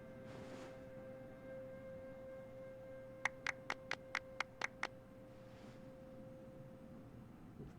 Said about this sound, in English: The sarcastic clap.